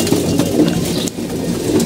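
Pigeons cooing at feeding time, soft repeated low coos over a steady background of birds and rustling, the calls close and overlapping.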